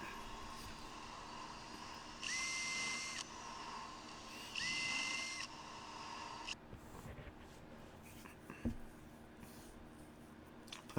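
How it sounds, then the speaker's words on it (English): A countersink bit drills into wood for cabinet making, two short bursts of high whining drill spin with grinding, each about a second long, followed by quieter handling knocks and rustle. "I love using these Amana countersinks"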